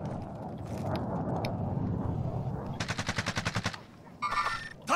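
Rapid automatic gunfire from a teammate in a multiplayer shooter video game rattles out as a fast, evenly spaced burst at moderate distance, preceded by a rumbling background and followed by a shorter burst.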